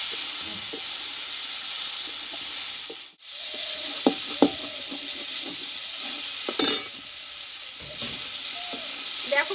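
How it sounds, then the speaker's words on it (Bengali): Potatoes and yardlong beans frying in a pan, a steady bright sizzle with scattered scrapes and clinks of a spatula stirring, the hiss briefly cutting out once before resuming. "একটু ভেজে নেবো আগে"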